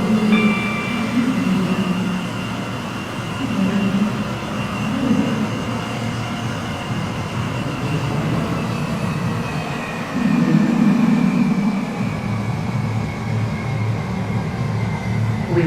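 A train rumbles steadily along the tracks in a Roblox-style railway game, a continuous loud, close drone with a faint whine and slight swells in level, and no voices.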